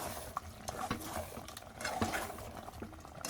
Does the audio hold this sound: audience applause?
no